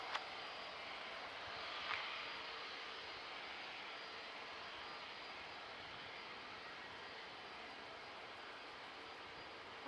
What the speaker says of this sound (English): A321 Neos, one of the new ones.